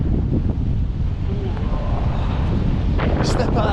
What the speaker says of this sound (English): it's that little bit of wind